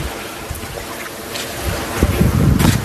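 Sea waves wash ashore on a beach in Turkey, a broad steady rush of surf with wind noise buffeting the microphone, growing louder and fuller toward the end.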